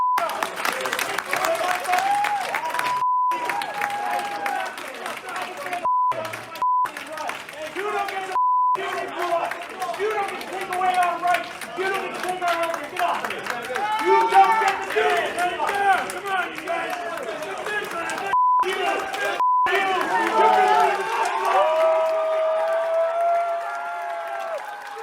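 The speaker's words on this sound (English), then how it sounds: "you will see the crowd, cheering him on" A town hall audience cheers and applauds for a veteran, a loud sustained mix of clapping and shouting voices that swells and continues underneath speech, broken by a few short censor beeps.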